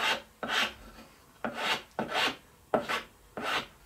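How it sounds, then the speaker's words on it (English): A hand file rasps along the edge of a wooden sled piece in seven rhythmic strokes, each a close, gritty scrape with short pauses between. "You can use a file in here to clean up this edge."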